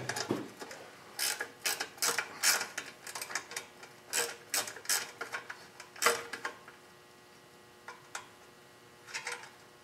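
A ratchet wrench removes a bolt from a Tecumseh lawn mower engine, giving close, irregular bursts of sharp clicking with short pauses between them and no voices.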